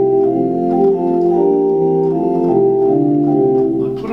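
Great-division stops of a pipe organ, flutes included, play without the coupler, producing steady, sustained chords that shift smoothly from one to the next at a full, even loudness.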